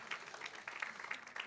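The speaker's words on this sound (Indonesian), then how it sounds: "Bapak Ibu, kasih tepuk tangan dulu buat Tuhan Yesus ya" Church congregation applauding for Jesus during an Indonesian sermon, a brief burst of scattered clapping at moderate distance.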